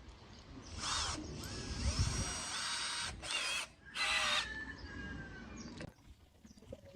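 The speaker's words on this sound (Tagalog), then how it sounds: "itatry po natin kung ito nga ba ay kakayanin niya magbutas ng concrete" A Harden 756012 12V cordless drill, without hammer mode, bores into concrete, its motor whining and grinding loudly in several bursts with brief pauses and pitch shifts as the bit bites into the surface.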